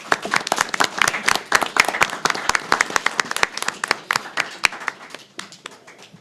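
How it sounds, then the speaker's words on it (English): A room of attendees at a city commission meeting claps steadily for the Lions Club, a dense patter of hand claps that holds strong and then tapers slightly toward the end, with no voices over it. "Let's have a round of applause for the Lions."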